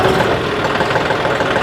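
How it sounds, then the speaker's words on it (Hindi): A John Deere 5210 tractor, a 50 hp diesel, idles in top gear with a steady, close, continuous low rumble and faint knocking texture throughout. "ये डी के आइडल आरपीएम में है, यानी कि टॉप गियर के आइडल आरपीएम में भी ट्रैक्टर चल जाता है"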